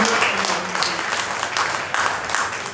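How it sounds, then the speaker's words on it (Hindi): An audience applauds steadily through a Hindi poetry conference, a dense, even wash of clapping throughout. "एक बार आप अपने सम्मान में जोरदार तालियां बजा करके इस सम्मेलन को"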